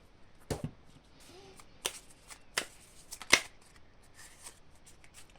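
A small oracle deck of colour cards is shuffled by hand for a card reading, several quick riffling bursts and soft card slaps, close and fairly quiet, with no talking.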